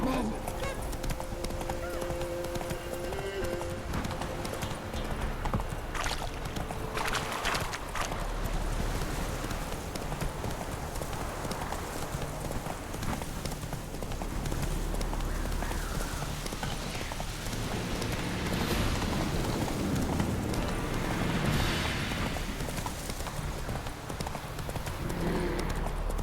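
Geralt's horse Roach galloping in The Witcher 3 video game, with quick rhythmic hoofbeats close up, a whinny near the start, and rain pattering underneath throughout.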